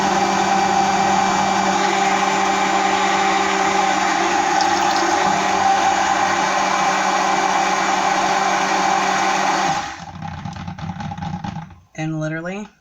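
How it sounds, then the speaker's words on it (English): A solid dishwashing soap mixture is whipped with an electric mixer or blender, giving a loud, steady motor whir that runs continuously, then slows and stutters near the end as the mixing stops. "let's get this mixed up."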